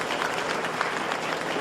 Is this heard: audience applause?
yes